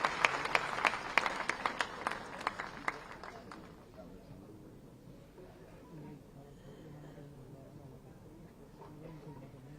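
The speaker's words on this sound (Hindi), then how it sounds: "एक बार जोरदार तालियों થઈ જાય" Loud applause from a conference audience welcomes the chief minister at the opening of the World Textile Conference in Ahmedabad; dense clapping lasts about three and a half seconds, then dies away into a low hall murmur.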